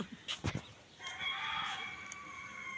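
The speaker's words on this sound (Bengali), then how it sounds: "ওখান থেকে একটা মোরগ ডাকতেছে" A rooster crows from a nearby house in one long, wavering call, preceded by a few short knocks and rustles close to the microphone, with no talking.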